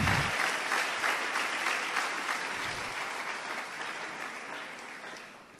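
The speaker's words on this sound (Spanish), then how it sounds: "Denle un aplauso a él porque sé que estamos aprendiendo." A church congregation applauds during a sermon, a steady wash of many hands clapping that slowly fades over several seconds, with no talking.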